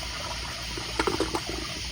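A kindergarten toilet flushes with a rushing burst of water that swells midway over a steady hiss, then settles into gurgling and continued running water.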